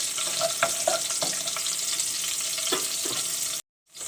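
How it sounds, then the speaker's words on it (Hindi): Garlic and mustard seeds frying in oil in a home kitchen pan, a steady close sizzle with scattered pops and stirring clicks, ending in a sudden brief silence. "इन दोनों चीज़ों को हल्का सा हम फ्राई करेंगे ताकि अच्छी से खुशबू आ जाए लहसुन की"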